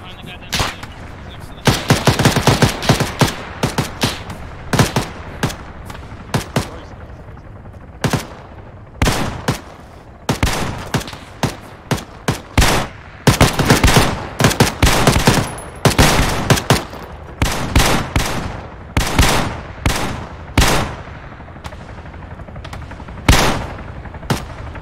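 Video game gunfire during an amphibious military operation: loud, dense bursts of automatic fire and single shots crack repeatedly throughout, some clustered rapid volleys, with occasional talk between them.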